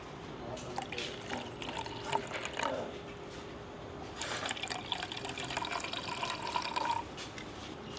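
Water poured from a kettle or bottle into Aeropress cold brew coffee, a soft steady trickle with light splashing and drips that swells in two bursts, close by and fairly quiet, with no talk.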